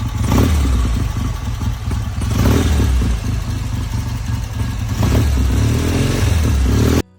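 A classic motorcycle roars to life on one kick and runs loud and close, its engine rumbling steadily with a few throttle blips before cutting off abruptly at the end.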